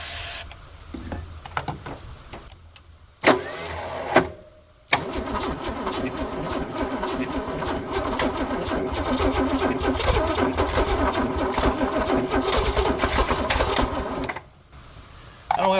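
A 1978 Ford Fairmont engine cranks repeatedly after sitting for years, the starter grinding in a long steady churn with brief pauses between attempts, loud and close with no talking over it.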